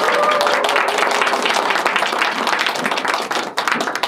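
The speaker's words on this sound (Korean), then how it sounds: "박수 부탁드릴게요." Dense applause from a concert audience at a live music show at Space Hangang, loud, close and continuous throughout, with scattered sharp claps over a steady wash of hands.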